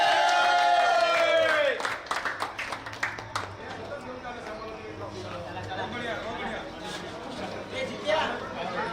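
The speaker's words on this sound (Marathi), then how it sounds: "जोरदार टाळ्या महार संघासाठी होणार" Applause for the Mahar team at a cricket league prize ceremony, a spread of crowd clapping that follows someone speaking over a loudspeaker, with chatter mixed in.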